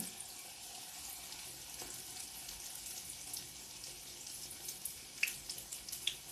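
Soft, steady sizzling hiss of dough frying in hot oil over medium heat, with a few faint pops and crackles toward the end.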